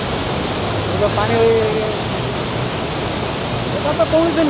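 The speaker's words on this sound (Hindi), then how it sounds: "तो गाइस ये रहा आपका सानो घाघरा वाटरफॉल" The Sano Ghaghara waterfall rushes steadily in a broad, even roar of falling water, loud and close, with a few faint birdlike chirps over the constant wash.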